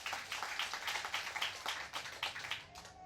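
A church congregation claps hands loudly in praise of the Lord, a dense, steady burst of many overlapping claps with no voices heard.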